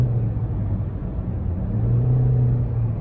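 A 2020 Toyota Corolla Dream Multidrive S engine revs from about 2000 to 4000 rpm, heard from inside the cabin as a steady low rumble and hum that rises slightly in pitch, with no voices.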